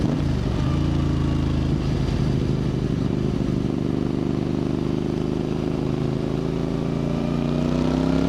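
A Voge 625DSX motorcycle fitted with an upgraded Scorpion exhaust revs hard on a road, a loud close engine note holding steady and then climbing in pitch as it accelerates continuously.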